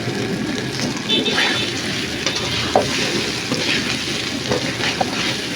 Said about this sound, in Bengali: আমি রসুনটাকে ভালো করে কষিয়ে নেব। কাঁচা গন্ধটা যতক্ষণ না যাবে ততক্ষণ পর্যন্ত আমি এটাকে কষিয়ে নেব।